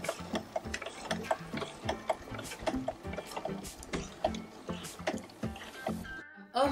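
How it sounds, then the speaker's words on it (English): A sewing machine runs at very slow speed, stitching denim for a corset top made from jeans, giving a close, steady series of soft mechanical ticks and clacks. "now I can pull my pin out and then continue sewing on a very slow speed."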